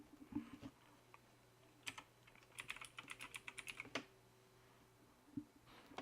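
Quick bursts of keystrokes on a computer keyboard, a short word typed and then a firmer key press like Enter, quiet and close in a still room with no talking.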